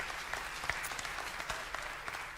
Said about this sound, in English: there's the golf clap.